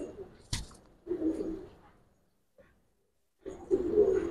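A female Giribaz pigeon coos in low, throaty bursts, quiet and fairly close, separated by silence, with a sharp click early on.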